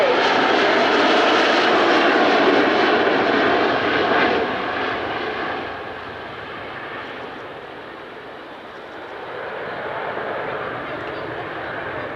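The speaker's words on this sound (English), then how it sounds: "the aircraft's going to come past us, and this is in landing configuration, just above landing speed" A Boeing 727 jet in landing configuration, just above landing speed, passing close at the 2015 Cosford airshow: a loud, broad engine roar that stays strong, then slowly eases as it moves away.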